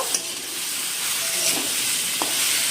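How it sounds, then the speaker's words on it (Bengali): Vegetables with salt and turmeric fry in a pan, giving a steady close sizzle with brief stirring scrapes and no voices throughout. "নুন হলুদ দিয়ে এটাকে ভালো করে ভাজবো"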